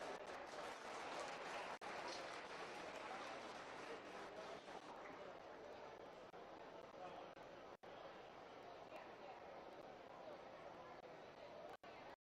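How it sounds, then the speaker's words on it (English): Audience applause at a beef cattle showmanship ring, a continuous dense patter of clapping that holds steady and fairly strong throughout before cutting off sharply at the end. "Give both of these exhibitors a round of applause."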